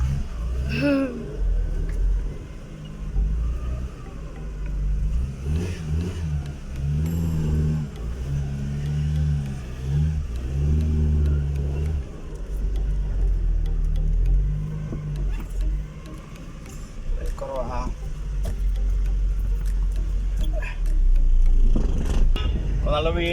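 A first car pulls away and drives off, its engine revving with rising and falling tones and a steady road rumble. People talk over the engine noise in several stretches.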